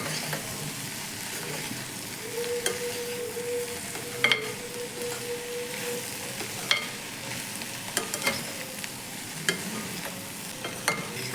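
Beans and sprouts cooking with a ground paste in a pan, a soft continuous sizzle with intermittent spoon scrapes and stirring clinks, close and fairly quiet.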